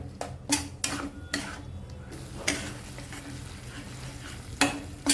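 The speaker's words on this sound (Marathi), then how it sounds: "तेलावरती आपण चांगलं परतून घेऊया" Onion and masala paste frying in hot oil in a pan for a veg Kolhapuri curry: a constant close sizzle with repeated sharp scrapes and taps of a spatula stirring against the pan, several quick strokes early and a few spaced later.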